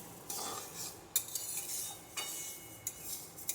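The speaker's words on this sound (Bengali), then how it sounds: "মুগ ডালটা ভাজতে বসে নিয়েছি" Mung dal fried and stirred in a pan for vegetable khichuri, heard as repeated scraping and clinking strokes of a utensil against metal over a faint, steady sizzle, with no talking.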